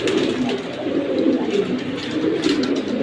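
A pair of military-breed pigeons coos continuously at close range, a deep, throaty rolling murmur that swells and dips steadily with no talking.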